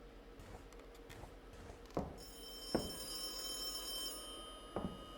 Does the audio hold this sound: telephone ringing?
yes